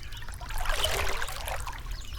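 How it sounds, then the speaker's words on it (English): Water trickling and dripping off a wooden canoe paddle, a soft close splashing patter that swells briefly and then continues lightly. "You hear the water dripping off your paddle."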